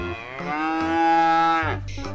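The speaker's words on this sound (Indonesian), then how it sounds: "Ibu sapi grandong." A large, fat mother cow lets out a single drawn-out moo, loud and near, heard alone for about two seconds.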